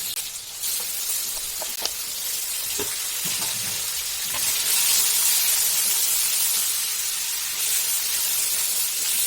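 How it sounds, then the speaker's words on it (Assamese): Chicken pieces dropped into hot oil with fried onion and green chili, giving a steady loud sizzle and hiss with occasional spatters and stirring clinks, no voices. "এতিয়া পিঁয়াজ ভজা হৈ গ'ল আৰু এতিয়া চিকেনখিনি দি দিওঁ"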